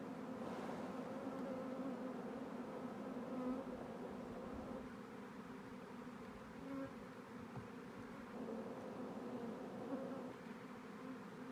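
Honeybees swarm in a dense, steady buzz as a hive frame carrying the queen is shaken, with the drone close and continuous throughout and quieter at moments.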